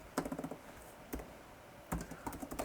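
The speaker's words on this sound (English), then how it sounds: "So I'm just gonna go onto my laptop and let's start typing" A laptop keyboard is typed on in short bursts of quick, light key clicks separated by brief pauses, close and fairly quiet. The laptop is being used with a Dasung 13K color e-ink monitor.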